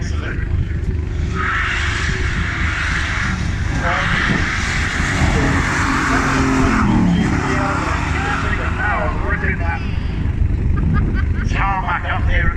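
Race cars at the Kop Hill climb run on a tarmac hill road, with engine roar passing steadily throughout, fairly loud and continuous, while people talk over it.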